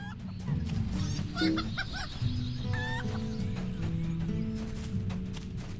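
A chicken in the video game Lord of the Rings Online clucks again and again in short, choppy bursts over a low, steady game ambience.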